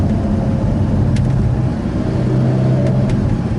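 An Alfa Romeo 4C engine holds a loud, steady drone with the pedal floored, a dense low rumble continuing without a break and a couple of faint clicks above it.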